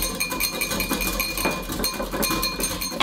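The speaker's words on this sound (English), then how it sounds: "Add the olive oil little by little while whisking." A whisk beating olive oil into vinaigrette in a bowl, quick rhythmic metallic clinks and scrapes repeating close up without pause.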